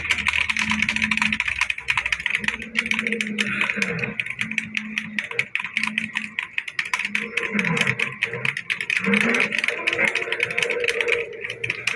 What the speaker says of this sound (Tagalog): Ito yung keyboard.